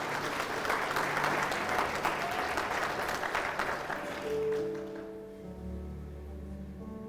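Church congregation applauding during a Spanish-language sermon, steady clapping from many hands that fades after about four seconds as organ or keyboard chords come in underneath.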